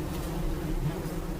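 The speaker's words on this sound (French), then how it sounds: "nous avons assisté à l'arrivée de nouvelles colonies d'abeilles." Bees of a newly arriving colony swarming into a hive at a Senegalese apiary: a dense, continuous low buzzing hum, steady and close throughout, with no talking.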